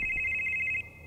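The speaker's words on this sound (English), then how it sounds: "What's calling? Or what's ringing? This little phone?" A small telephone in a mental hospital in the video game Demonologist rings with a high, steady electronic trill, close and clear, then cuts off.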